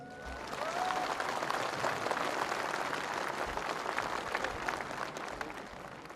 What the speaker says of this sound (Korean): 특히 지난 5년간 수고하신 노무현 대통령께 여러분 박수로 한번 격려해 주시기 바랍니다.